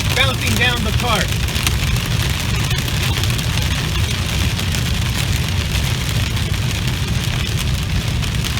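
Pea-sized hail drums steadily on a car driving through a storm in Central California, a dense, continuous patter over a low engine rumble, with a brief voice near the start.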